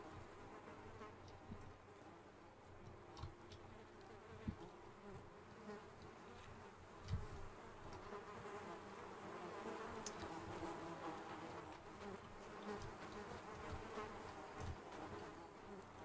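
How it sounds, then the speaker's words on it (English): Flies buzz steadily and continuously in Project Zomboid, a dense, constant insect drone with no voices, holding at a low, even level throughout. "Perpetual buzzing."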